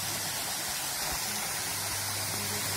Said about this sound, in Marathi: धबधबा आपण बघू शकता